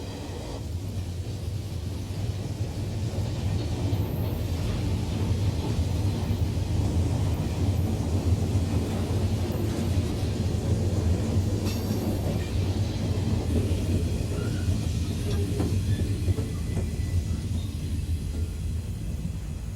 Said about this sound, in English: The tail end of the Conrail train passes as the trunk cars continue to file through the junction.